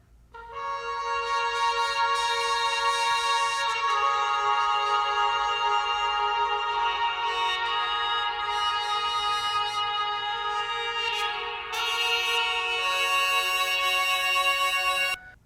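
A recorded trumpet, played by the songwriter who plays every instrument on the track, carries a bright, sustained melodic line of long held notes with a brief pause near the end.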